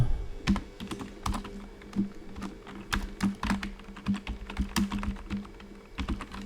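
Rapid, irregular keystrokes on a computer keyboard while H1 code is typed into a Shopify theme file, close and fairly quiet, with crisp clicks arriving in quick bursts and no voice.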